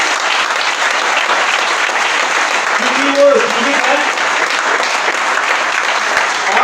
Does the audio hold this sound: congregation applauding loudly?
yes